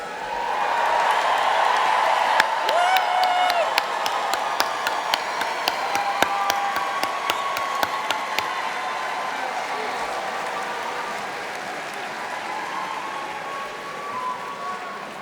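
A commencement crowd applauds and cheers its bachelor's graduates, a sustained bed of clapping running throughout, a few whoops and whistles on top, and sharp individual claps standing out early before the sound slowly thins.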